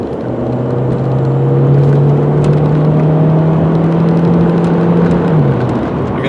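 A green 2001 VW Jetta GLS with a 1.8-litre turbo engine accelerates hard from a start, its steady engine drone rising in pitch over several seconds before easing off near the end, heard from inside the front-wheel-drive car.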